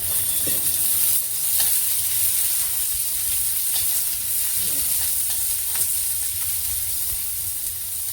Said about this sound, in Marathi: हे बघा, कांदा आणि लसूण एकदमच टाकला मी. याला फक्त ना असं थोडंसं हलकंसं सोनेरी होऊन द्यायचं, थोडंसं तेल टाकायचं आता याच्यात.